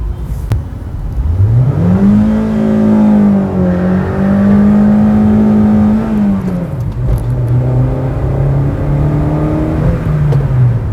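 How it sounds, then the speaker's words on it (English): A Honda Brio 1.2 launches hard, engine revving up in a loud rising whine that holds, dips at a shift and climbs again, close and continuous; tire screech is not clearly separable. "this was a perfect launch. Like not much wheel spin was there, but tire screeching, a lot of tire screeching was there"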